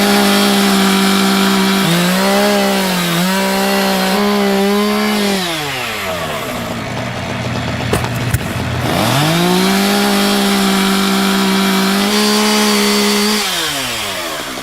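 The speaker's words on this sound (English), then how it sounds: "I'll just go around with the small chainsaw, like a marker pen, and do some small cuts" A small chainsaw cuts into wood while carving a Pacific pou, the engine revving loud and close in long sustained bursts, dropping to idle midway before revving up again.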